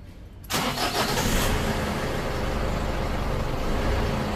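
A Mazda BT-50 pickup with a fault that makes it start and then stall is restarted: a brief cranking burst, then the engine catches and settles into a steady, close idle rumble with no talking.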